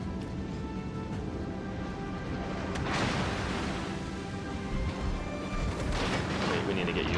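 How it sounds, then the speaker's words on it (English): Naval gunfire from warships in a game, with heavy booming shots under continuous talk, several louder blasts standing out against a dense, rumbling battle background. "Okay, so somebody else is shooting."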